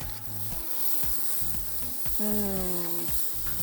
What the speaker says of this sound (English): while Joe is frying up our potatoes